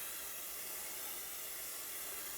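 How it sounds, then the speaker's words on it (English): A continuous hiss of an aerosol can spraying flat oil paint, close and steady throughout with no pauses or voices. "It's a flat oil spray"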